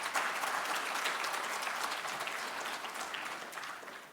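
Sustained audience applause fills a hall at the 2025 Galien Africa Prize award ceremony, a dense, steady wash of many hands clapping at close range that stays even throughout.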